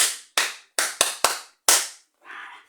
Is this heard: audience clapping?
yes